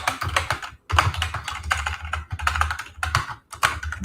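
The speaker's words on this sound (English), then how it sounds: "I know this keyboard is very loud." Rapid, loud clacking of keystrokes on a noisy computer keyboard, close up, in bursts with short pauses between runs of typing.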